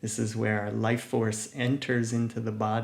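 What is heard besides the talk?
No everyday noises stand out.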